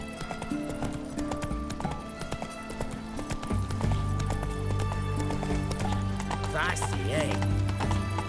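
A horse galloping in the video game The Witcher 3: Wild Hunt, with steady rhythmic hoofbeats running under in-game music and a character's voice.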